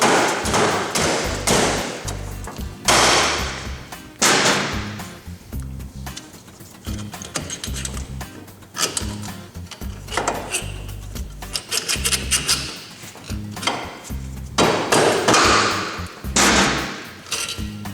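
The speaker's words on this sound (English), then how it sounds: "take your composition hammer and give it a couple of whacks on that ball joint" Loud, sharp composition hammer blows strike a ball joint on a Suzuki LTA400F ATV's front steering knuckle in irregular bursts, several heavy whacks with short pauses between, some ringing clanks and thuds close by.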